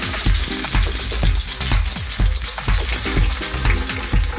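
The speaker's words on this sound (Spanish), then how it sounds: "Primero echamos el pimiento." Bell pepper frying in very hot oil for a paella sofrito produces a loud, crackling sizzle, broken by regular rhythmic scraping and stirring strokes about every half second.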